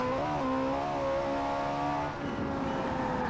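A Ferrari 458 Italia's engine holds a steady, droning note in Forza Horizon 4, then shifts pitch with a downshift and a light throttle blip, moderately loud with no talking.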